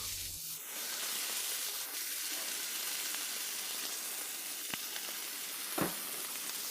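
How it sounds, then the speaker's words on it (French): Steady, loud sizzling of a thick beef burger patty on a hot griddle, a broad continuous hiss with a couple of brief clicks and pops near the end. "Mettons ce gros steak sur la plaque à frire."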